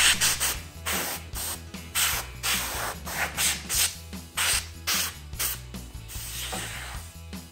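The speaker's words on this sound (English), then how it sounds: "grab your compressed air right now and go ahead and spray this out a little bit" Compressed air blasts dust out of a PlayStation 4 console in loud, hissing bursts, repeated in short pulses with brief gaps between them, close to the microphone and with no talking.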